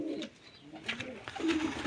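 Pigeons or doves cooing inside a coop, soft repeated coos close by with faint rustling and occasional background voices.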